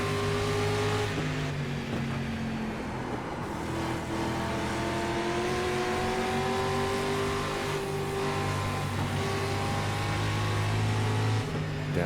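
Race car engines in iRacing at the Carolina 100, several cars droning and revving together with shifting pitch that rises and falls as they pass, loud and continuous throughout.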